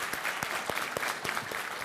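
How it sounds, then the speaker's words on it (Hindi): A studio audience at a televised Hindi debate show applauds to welcome two speakers, with steady massed clapping and some sharp individual claps standing out, moderately loud and continuous, with no speech. "तालियों के साथ दोनों का बहुत बहुत स्वागत कीजिए।"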